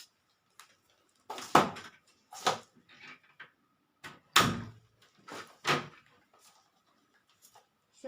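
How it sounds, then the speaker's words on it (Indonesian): Curtains on a window and a door are closed before a patient examination, giving several separate soft knocks and thumps with quiet gaps between them and no talking. "kita harus menutup tirai jendela maupun pintu"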